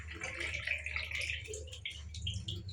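Water rushes through a newly unclogged grill drain, a steady, faint gurgling and trickling flow with splashy bursts, heard close up without talk.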